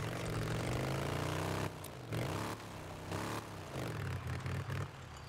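Motorcycle engine from Days Gone, fitted with a silent exhaust yet running loud, drones steadily with a low harmonic rumble that dips and surges as the throttle is eased off and opened again several times.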